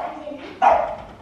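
Dogs give a short, loud bark close by after a quieter yip, a single sharp burst over light household background.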